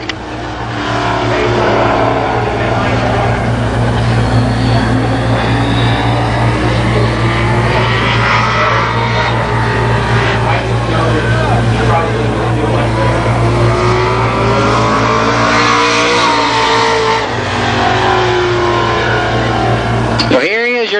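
Rusty Wallace runs hot laps on the Columbus Motor Speedway oval in the Paul Storer-owned number 5 car, its engine droning loud and steady as it circles, pitch rising and falling with each pass, while a commentator talks over it.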